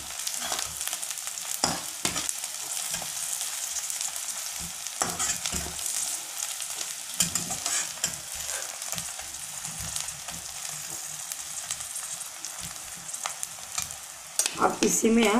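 Paneer bhurji cooking in a pan, with a steady frying sizzle and repeated spoon-scraping stirring strokes, close and continuous with no talk.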